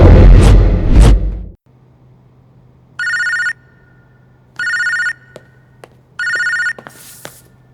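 A telephone rings in an action film, sounding three loud, evenly spaced bell bursts against a low steady hum after brief voices at the start.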